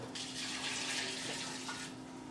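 Tap water runs steadily into a stock pot, a soft continuous splashing hiss with no talk, filling water for cooking pozole.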